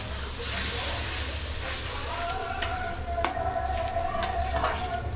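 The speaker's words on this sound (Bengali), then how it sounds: "মশলাটা ভালো করে কষানোর জন্য এই দেখো একটু জল দিয়ে দিলাম" Masala for chicken sizzles hard in a pan after a splash of water, a loud, steady hiss with sharp clinks of stirring and a voice speaking faintly underneath.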